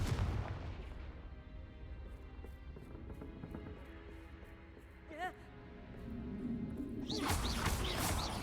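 Confringo fire spell blast in the Hogwarts Legacy video game: a sequence of booming impacts and crashes amid game sounds, with one sharp blast midway and a louder burst of fiery noise near the end.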